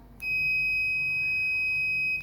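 A digital fire alarm circuit's buzzer sounds one continuous, piercing high electronic tone for about two seconds. It is close and steady, starting and stopping abruptly over a faint low hum.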